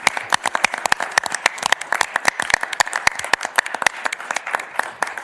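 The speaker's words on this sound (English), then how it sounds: "One more round of applause" Applause from the audience at a county board meeting: many hands clapping in a dense, steady stream with sharp individual claps standing out, fairly close and loud throughout.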